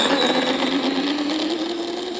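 Brushless RC snowmobile from an Art Attack kit, with a Tekin ESC and T8 motor, runs at full throttle, giving a steady, loud, high-pitched electric whine and buzz that holds throughout without pause.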